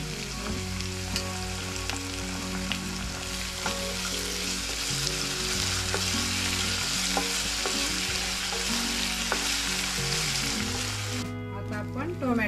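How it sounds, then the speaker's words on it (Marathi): Garlic ginger paste frying in a pan for Marathi misal, a loud continuous sizzle with scraping stirs and a steady background hum, ending with a sharp cut. "आता आपण लसूण अद्रकची पेस्ट टाकून घेऊया।"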